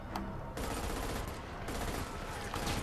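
Gunfire in the video game Army of Two: The 40th Day, a sustained noisy stream of rapid shots over dense battle ambience, with a sharp burst near the start and a player talking faintly underneath.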